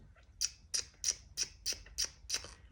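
A person makes weird baby-bird noises, a run of seven quick, high, chirpy squeaks in a steady rhythm, close and fairly soft; the voice imitates a chick.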